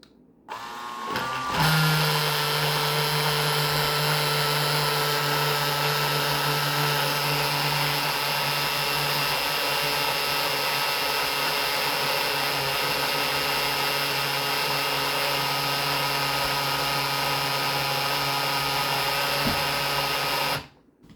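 A blender blending a strawberry banana smoothie runs at a steady, loud whir for about twenty seconds after a brief start, a constant motor drone with no talking.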